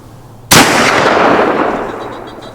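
A single loud gunshot fires during a deer hunt, a sharp crack followed by a long rolling echo that fades over about two seconds outdoors.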